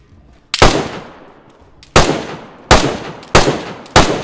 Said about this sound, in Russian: С лестницы стреляет.